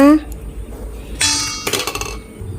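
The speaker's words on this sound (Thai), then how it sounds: "ตั้งกระทะกันค่ะ" A metal frying pan is set down on a stove, with a clanging metallic impact followed by a ringing rattle and a few lighter knocks, close and fairly loud.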